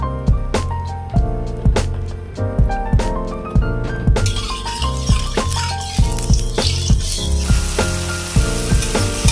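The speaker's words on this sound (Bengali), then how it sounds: "চিংড়ি মাছটা ভাজার জন্য কড়াইতে সর্ষের তেল দিলাম।" Shrimp fry in mustard oil in a wok, a steady sizzle with scattered sharp crackles under loud tonal background music.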